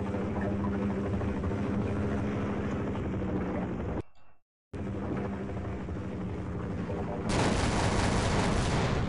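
Gunfire aimed at a helicopter in the Half-Life video game: a dense, loud stream of rapid shots over a rotor roar, broken by a brief silent gap before an even louder burst.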